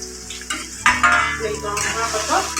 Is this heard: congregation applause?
no